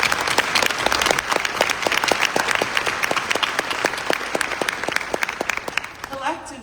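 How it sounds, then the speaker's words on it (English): Audience applause at a memorial fundraiser event, a dense, loud burst of many hands clapping steadily with some crowd noise, fading near the end. "So let's give him a round of applause."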